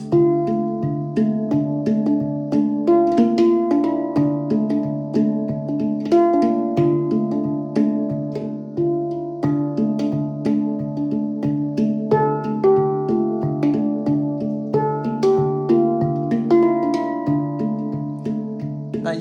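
A handpan played with ringing metallic tones struck in a steady, flowing pattern, notes overlapping and sustaining into a warm, resonant melody with no talking.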